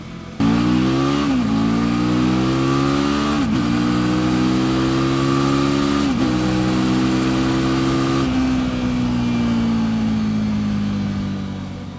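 A Honda RC51 motorcycle, a V-twin sport bike with superbike racing roots, revs loudly and steadily, its engine note rising in several pulls with brief dips between them before settling into a sustained drone that fades slightly at the end.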